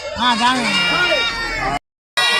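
A goat bleats several wavering calls up close at a livestock market in Ongole, Prakasam district, loud and alone for a moment before a brief silence and another burst.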